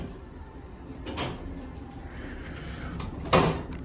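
A Schindler RT 300A hydraulic elevator door at a department store slides closed: a steady low hum with a soft thump near the start and a sharper knock as the door meets the frame at the end.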